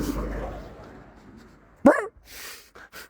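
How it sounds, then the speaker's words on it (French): A dog gives one sharp, loud bark on a street, followed by a short muffled sound, with people's voices and background noise around it. "Le chien."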